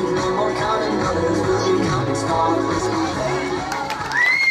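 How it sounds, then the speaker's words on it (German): Crowd at a German open pairs disc final cheers and applauds steadily, with an announcer's voice and whoops mixed in throughout. "Großen Applaus!"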